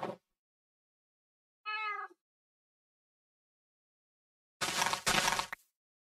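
Cat meowing in Minecraft: one short, clear, tonal meow stands alone in near silence, with brief louder noise bursts before and after.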